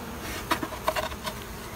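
A honey bee colony with many older bees buzzes in a continuous droning hum, with a few individual bees passing close and briefly louder.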